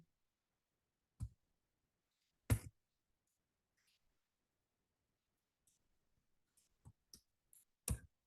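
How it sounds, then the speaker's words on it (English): Mouse clicks on a software save button: a few sharp, isolated clicks spaced over quiet silence, then a quicker cluster of clicks near the end, close and crisp. "click on save button"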